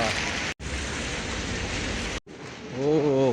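Steady, dense hiss of rain falling outdoors in Malaga, Spain, broken by two brief dropouts, with a voice speaking over the downpour toward the end.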